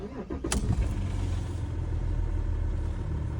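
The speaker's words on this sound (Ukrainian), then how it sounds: "зараз знімаю, як вона запускається наш дізельочок" A 3.0-litre diesel engine in an 18-year-old Audi A6 C6 Quattro starts with a brief starter crank and catch, then settles into a steady low, rumbling idle, heard up close.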